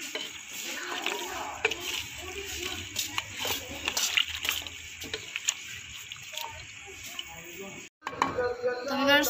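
Water poured from a glass into a kadai of dhaba-style beef masala curry, a steady splashing pour over kitchen noise with a brief gap near the end.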